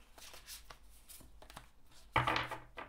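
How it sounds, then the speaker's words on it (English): An oracle card deck, a rainforest wisdom set, is shuffled with soft rustling riffles, followed by a louder, sharper flurry near the end as a single card is pulled, close and quiet with no talk. "So let's pull one card for us and see."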